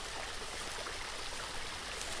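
A gentle stream trickles steadily beside a waterfall, a continuous soft broadband wash of running water with no pauses, close and even in level throughout.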